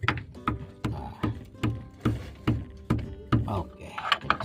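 Someone tightens the differential oil drain plug on a 1992 Suzuki Futura with a ratchet, giving a rhythmic series of close, sharp clicks spaced about every half second.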